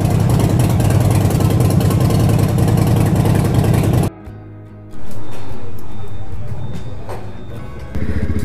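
A loud Jawa 42 motorcycle engine runs steadily, cuts out abruptly midway, then a quieter rumbling engine and clanking follow before the level rises again near the end.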